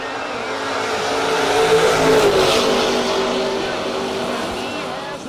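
Drag racers, a wagon and a Mustang, launch at a no-box race: loud engines roar and rise in pitch as they pull away, while an announcer talks over the noise.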